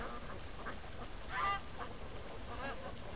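Muscovy ducks gathered in front of a dock give a brief, faint honking call midway through, set against a soft outdoor background hiss.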